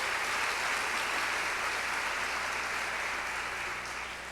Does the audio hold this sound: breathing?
no